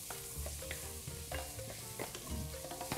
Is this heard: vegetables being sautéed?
yes